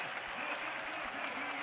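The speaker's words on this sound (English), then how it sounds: "Tremendous cheer going up" A Tour de France 1989 stage-finish crowd cheers and claps steadily as the French rider Vincent Barteau wins, a distant, even roar of applause.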